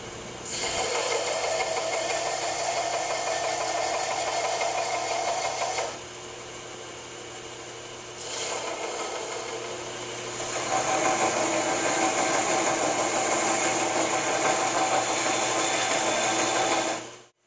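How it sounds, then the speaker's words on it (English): Bench grinder whines steadily as a steel blacksmith touch mark is ground clean, the loud high hum dropping briefly while contact eases and then returning stronger before spinning down at the end, with no speech. "So now we got that all cleaned up on the grinder"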